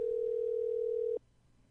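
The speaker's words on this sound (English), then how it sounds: "So apparently I got Dan's voicemail" A single steady telephone tone sounds during a call that reaches voicemail. It holds clear and constant for just over a second, then cuts off abruptly into a faint line hiss.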